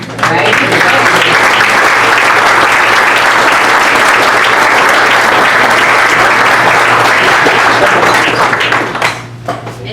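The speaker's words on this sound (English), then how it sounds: "we'd like to acknowledge and give you some round of applause" Loud, dense applause from a standing audience at a Hall of Fame induction ceremony, sustained clapping filling the room for nearly ten seconds before thinning out at the end.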